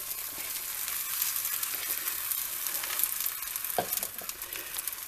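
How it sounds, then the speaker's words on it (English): Steady crackling sizzle of an omelet's beaten eggs frying in a hot pan, continuous and fairly close, with a few light scrapes and no talking. "Let it all sizzle away."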